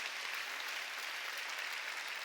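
Church congregation clapping at a Wednesday evening worship service, a steady dense wash of applause holding throughout, fairly faint and distant, with no voices over it.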